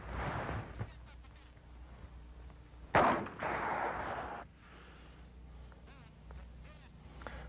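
A single sharp gunshot from a more penetrative round fired at a wall rings out loud and close, with a brief echoing tail before quieter room noise returns.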